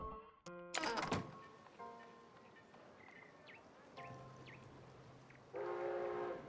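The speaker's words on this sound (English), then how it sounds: "Train has arrived." In SteamWorld Build, a video game, a train arrives with a sharp horn blast and clanking thunks, followed by softer whistle tones, mechanical rumble and a final louder horn-like chord.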